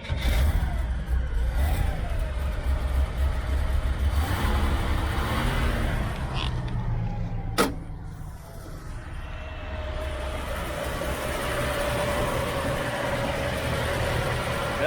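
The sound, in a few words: 1972 Chevy Nova engine running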